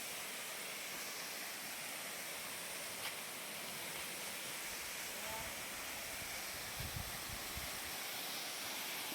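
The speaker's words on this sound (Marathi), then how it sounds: "माझ्या गावचा धबधबा वॉटरफॉल तुमच्या भाषेत आमच्या भाषेत धबधबा" Waterfall in Konkan that flows year-round, heard as a steady broad rushing hiss of falling water, continuous and even throughout with no pauses.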